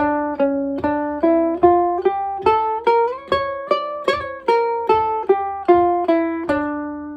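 A guitar plays a rising then falling harmonic minor scale in Gypsy jazz style, one clear plucked note at a time at a steady, moderate pace, with an exotic minor flavour.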